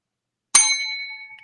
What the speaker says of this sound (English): subscribe to us on YouTube and trigger that bell